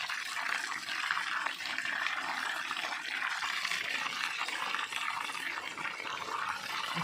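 Water from a motor pump gushes in a steady, loud, unbroken stream for a bath in a village. The close rushing flow continues without pause and no voices are heard.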